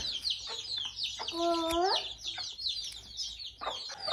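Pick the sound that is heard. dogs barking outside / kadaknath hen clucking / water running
kadaknath hen clucking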